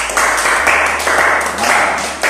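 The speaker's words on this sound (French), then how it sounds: "Applaudissez pour eux." An audience breaks into applause at a French-language self-development talk, with several short bursts of clapping of moderate loudness that swell and fade in waves.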